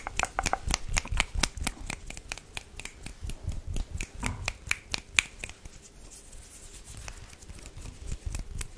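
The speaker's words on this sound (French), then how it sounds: "Tu as une vidéo assez simple, claquement de doigts." Finger snapping in a close-miked ASMR session, a long run of sharp, dry snaps in quick succession, fairly steady in rhythm, with a short lull midway and no talking.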